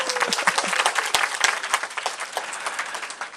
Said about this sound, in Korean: 우리 주일학교 박수 한번 보냅시다.